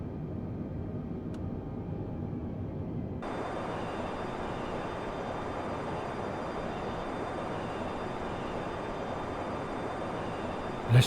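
Airliner cockpit ambience in Microsoft Flight Simulator on final approach: a steady, broad engine and airflow roar that grows fuller and brighter a few seconds in, holding constant with no talk.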